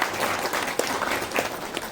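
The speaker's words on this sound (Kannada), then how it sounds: "ದಯವಿಟ್ಟು ಒಂದು ಚಪ್ಪಾಳೆ ಬರಲಿ" Audience applause for a film producer at a Kannada movie song launch event, a sustained wash of many hands clapping at moderate loudness with a few sharper individual claps standing out.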